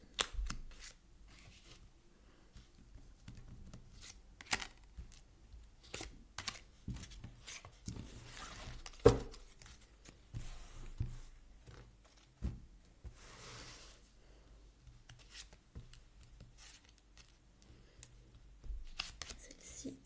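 Tarot cards being drawn and handled from a deck, giving soft papery slides, taps and flicks in an irregular run at close range, with little or no talk.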